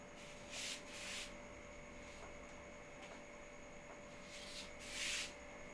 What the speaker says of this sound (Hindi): चलिए अब मैं इसको रब कर रहा हूं।